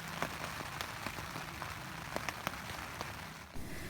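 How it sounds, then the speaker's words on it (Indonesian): Steady rain pattering on and around a pitched camping tent, a dense continuous hiss broken by sharper drip taps, close by and with no one talking. "saya bisa menatap hujan tanpa takut basah dan menikmati camping dengan suasana hujan"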